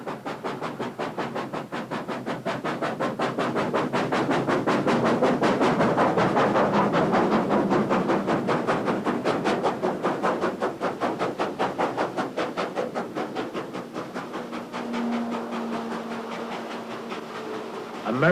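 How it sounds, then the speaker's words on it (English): Steam locomotive Frisco 1522 labors slowly up a grade hauling a 21-car railfan excursion, its rapid steady exhaust chuffs pounding loud and continuous, swelling mid-way then easing, with a brief whistle-like tone near the end. "Frisco 482, number 1522, is making a very slow but sure progress with a 21-car railfan"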